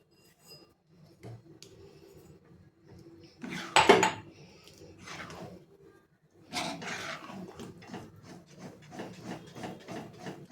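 A spoon scrapes and stirs moong dal halwa in a pan, with irregular rubbing strokes, one loud clattering knock near the middle, then a busy run of quick scrapes.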